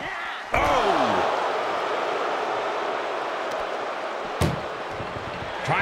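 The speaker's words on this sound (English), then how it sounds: "Trying to at least slam one door shut." An ambulance door is slammed shut with a loud, close bang, followed by a rattling, rumbling stretch and a second sharp slam near the end.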